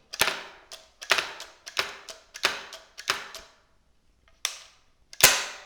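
The action of a Bergeron 12-gauge (12/70) shotgun is worked repeatedly, producing a steady series of sharp metallic clacks and clicks up close, then a pause and two final snaps.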